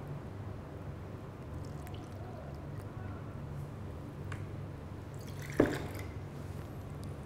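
Black tea extract is poured for a sea-salt cream tea drink, giving a faint, quiet liquid trickle with scattered drips and one brief splashy knock near the end.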